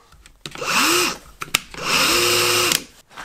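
A Metabo LTX 18 cordless drill driver runs slowly in two bursts separated by a click, a whirring motor whine with a gearbox chatter, close and fairly loud, with no talking.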